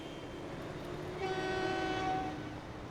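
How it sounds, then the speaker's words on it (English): Trains rumble through a busy station in the game Transport Fever, with a steady rolling clatter and a horn sounding clearly for about a second midway, fairly quiet overall. "There's just always trains, just all the time."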